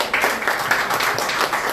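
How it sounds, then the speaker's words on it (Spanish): A crowd at a 70th and 61st birthday celebration applauds the celebrants, a brief, steady wash of clapping at moderate distance. "Eso, fuerte las palmas, fuerte las palmas"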